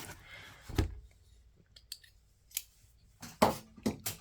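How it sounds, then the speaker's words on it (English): Scissors cutting open a Faber-Castell cardboard box, a few sharp snips and crunches with quiet gaps between them, close up and fairly soft. "Cut this open."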